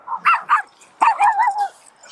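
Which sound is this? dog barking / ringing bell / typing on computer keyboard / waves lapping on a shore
dog barking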